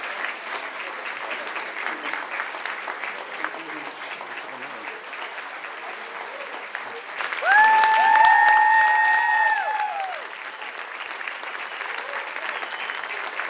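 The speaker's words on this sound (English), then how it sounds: "Let's give another round of applause for Anthony Quarles." An audience at a hospital awards gala applauds continuously, a dense wash of clapping that swells louder midway while a brief tonal musical sting plays over it, then settles back to steady applause.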